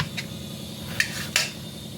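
Knife trimming the sides off a ridge gourd on a board, two or three quiet, crisp taps and scrapes spaced apart against low room noise.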